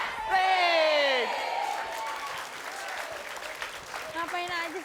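A studio audience at an Indonesian TV comedy show bursts into applause, opening with a rising whoop and voices before sustained clapping and crowd noise carry on under scattered shouts.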